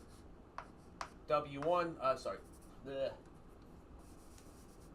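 Chalk or marker scratches on a board during a math lecture, a few short faint strokes heard mostly under a man's quiet speech.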